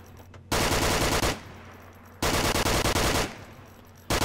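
Assault rifle fire in the VR shooter Onward: two long, loud, rapid full-auto bursts, each about a second, separated by a pause, with faint background between them and a brief start of a third burst at the end.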